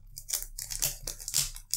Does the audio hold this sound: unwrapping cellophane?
yes